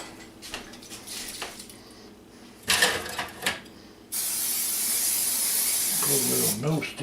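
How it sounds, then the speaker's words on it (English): Non-stick cooking spray hisses from a can in a kitchen, one sustained spray lasting a couple of seconds after some handling clatter of dishes, close and loud. "Put a little no stick on there."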